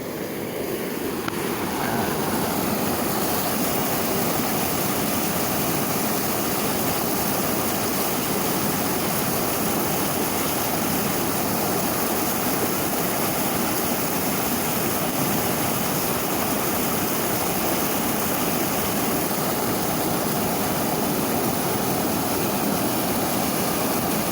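River water flows steadily and loudly, a dense continuous rush and hiss that carries on unchanged from start to finish with no voices.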